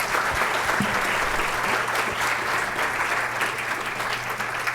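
Audience applause at the close of a clinical talk on obesity, a dense steady wash of many hands clapping at even loudness for several seconds, no voices over it.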